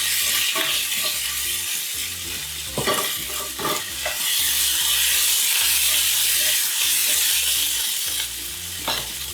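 A tablespoon of ginger fries in a pan for a veg Kolhapuri dish, hissing in a steady sizzle while a spoon stirs and scrapes in repeated strokes, close and alone without talk.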